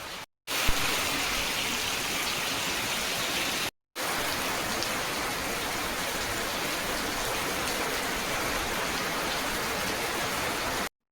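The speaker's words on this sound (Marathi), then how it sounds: "आता घरी आलतो तर बघा फुल पाऊस चाललेला अचानक." Heavy rain pours outside a house in a dense, steady patter and hiss, loud and continuous, broken only by two brief dropouts in the sound.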